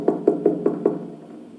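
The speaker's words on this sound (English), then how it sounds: "knocked on the door." Five evenly spaced knocks on a wooden door, close and firm, each a short solid thud about a fifth of a second apart, then quiet.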